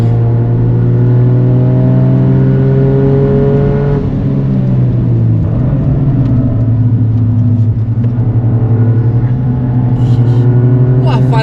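A car driven hard around the Mandalika race track on a track day, its engine droning loud and steady with rising and falling pitch as it accelerates and shifts through corners, continuous throughout with no speech.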